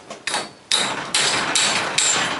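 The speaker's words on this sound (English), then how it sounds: "So you have to just hit the spring, hit this, however you can get it" A hammer strikes a rusted garage door torsion spring bracket in loud, sharp metallic blows, about five hits in quick irregular succession, each with a brief ringing decay.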